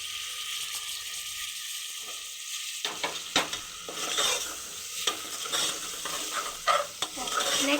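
Tomatoes tossed into a hot pan for potato pulao, a quiet hiss that jumps to a louder crackling sizzle partway through, then steady stirring scrapes and knocks.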